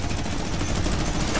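Rapid gunfire in Fortnite, aimed at a wall, crackles as a dense, loud, continuous burst of shots lasting only a moment.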